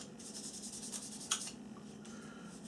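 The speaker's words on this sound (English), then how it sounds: "we're just going to go across it with the fine side of our sanding stick" The fine side of a sanding stick rubs across the surface of a scale model part in soft, rhythmic back-and-forth strokes, faint and close, with a small tap midway and no speech.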